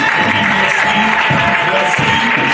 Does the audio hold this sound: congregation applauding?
yes